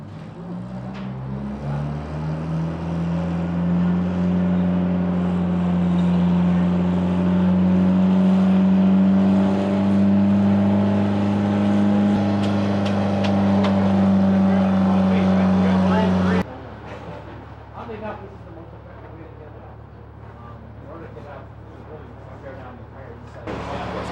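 A steady, loud boat engine drone holds for about fifteen seconds, then cuts out abruptly, leaving quieter background noise and occasional talk.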